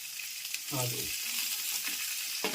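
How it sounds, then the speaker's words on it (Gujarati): Cabbage and green chillies hit hot oil for a tempering and sizzle loudly in the pan, a steady crackling hiss with a soft stirring bump near the start and another near the end. "એવું નાખ્યું તેલ બરાબર કોબી ને મરચા વઘારમાં કોબી ને મરચા"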